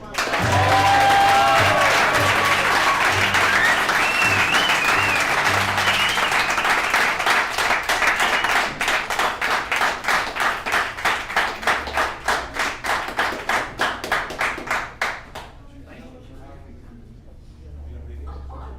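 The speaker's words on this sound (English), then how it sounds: "Let's give Kenny another round of applause" Applause at a recovery services alumni meeting after a speaker's talk starts as a loud, dense burst with voices over it, then settles into slower rhythmic unison clapping that fades out around fifteen seconds, leaving quiet room tone.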